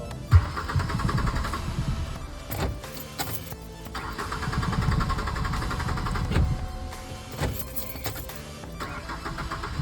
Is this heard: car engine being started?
yes